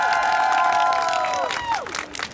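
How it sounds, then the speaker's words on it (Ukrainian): A crowd on Maidan square at an outdoor karaoke show cheers and whoops loudly, with a falling shout or whistle rising above the din before it fades. "а люди тебе втішають оплесками і проважають з Майдану"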